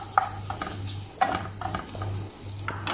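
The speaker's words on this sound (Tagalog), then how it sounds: "Haluin natin." Prawn pasta sauce sizzles in a pan while a spoon stirs it, a steady low frying hiss punctuated by repeated light clicks and scrapes of the utensil against the pan, close and without talk.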